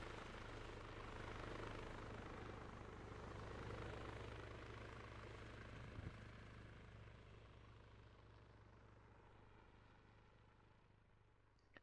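Helicopter rotor and engine drone inside the Arma 3 military game, a steady loud whir with low rotor thump that holds throughout and eases slightly toward the end, with no talking.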